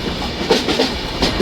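The Agniveena Express rolls past on a crossing track between Asansol and Howrah, heard close and loud as a steady rumble with rhythmic clickety-clack of wheels over rail joints.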